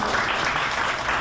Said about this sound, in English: Mesmer, applause please.